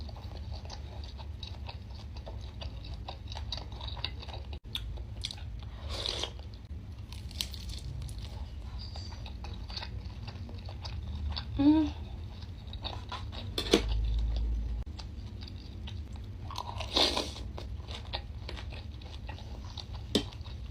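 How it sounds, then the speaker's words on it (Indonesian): Pempek fish cakes are bitten and chewed up close, with repeated soft crunches and wet mastication sounds plus occasional clinks of cutlery against a dish, and no talking. "Bentar aku makan dulu, ini terlalu enak."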